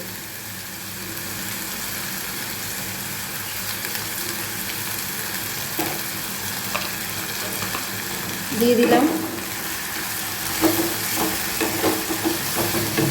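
Tomato puree fries in oil in a pan for an egg dish, giving a steady close sizzle with a louder burst of stirring midway and a few short clatters, while a voice speaks briefly.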